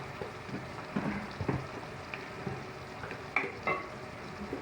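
Ground turmeric, coriander and chili spices are stirred and fried in a pan, giving a soft, steady sizzle broken by irregular scraping strokes of the spoon.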